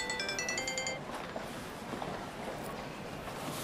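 A phone ringtone chimes in a quick repeating melodic pattern for about a second, then stops, leaving a quiet indoor room tone with faint background noise.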